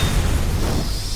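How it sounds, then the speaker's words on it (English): A pipe bomb goes off at a gas station in Left 4 Dead, heard as a loud, sustained explosive rumble with a deep low-end roar. "Let's throw a pipe bomb into the gas station."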